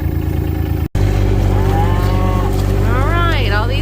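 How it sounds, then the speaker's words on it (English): Cows and calves moo loudly and close by, drawn-out calls that rise and bend, heard over the steady rumble of an idling vehicle engine. "Cows and calves coming up to check, make sure we weren't bothering nothing."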